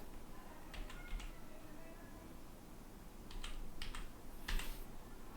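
Names are typed into a LibreOffice Calc spreadsheet on a computer keyboard, heard as quick clusters of light key clicks in a few short bursts over a steady hiss, close but quiet.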